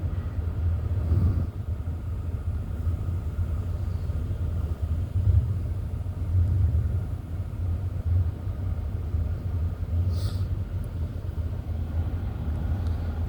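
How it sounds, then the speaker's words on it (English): Automatic car wash running around a grandmother's car, giving a continuous low rumble with churning swells and brief higher hisses of spraying, with no talk. "Here's a car wash, y'all."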